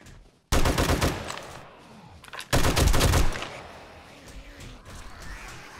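Two bursts of rapid automatic fire from a 120-round machine gun magazine in 7 Days to Die, loud and close, each lasting about a second, separated by quieter game ambience.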